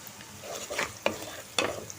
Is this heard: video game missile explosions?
no